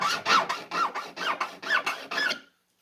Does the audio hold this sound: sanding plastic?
yes